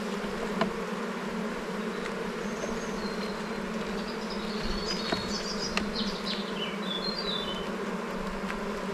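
A crowded hive of honeybees buzzing after being smoked, a dense, continuous drone with a few individual bees whining past up close.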